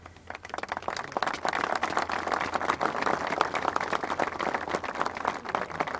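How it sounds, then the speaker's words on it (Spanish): An audience claps for the staff of a cattle ranch, a dense burst of handclaps that starts quickly and holds steady through the whole stretch with no talk over it. "Primero pido un aplauso para todo el personal."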